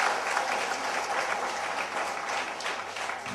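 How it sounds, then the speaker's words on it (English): An audience at a media and arts school event claps for its students, a steady burst of clapping at moderate distance lasting the entire stretch. "I really give a big applause to students"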